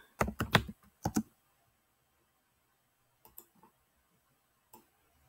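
Someone types on a computer keyboard, with a quick cluster of close key clicks at the start and then a few sparse, isolated taps after a pause, quiet and without talk.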